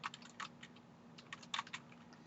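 Keys on a computer keyboard are tapped in quick, irregular little clusters, quiet and close by, with no speech.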